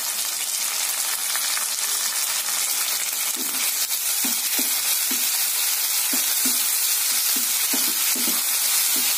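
Chopped onions and tomatoes sauté in a pan for a cauliflower curry, a steady close sizzle with faint stirring scrapes at a regular pace, no voices.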